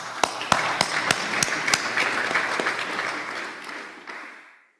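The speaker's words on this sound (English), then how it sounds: "So again, round of applause." A room of Rotary Club members at a meeting breaks into a round of applause, with a few sharp individual claps standing out at the start before the dense clapping tapers off and fades to silence.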